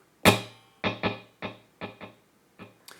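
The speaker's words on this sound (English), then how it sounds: "This is what the delay sounds like without the reverb." Clean electric guitar note plucked through a syncopated dual delay set to dotted eighth and quarter note, no reverb, from an I Surrender lead guitar part; one sharp attack followed by a string of distinct, evenly decaying repeats, fairly quiet.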